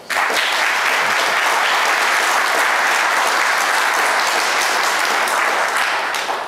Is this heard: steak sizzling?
no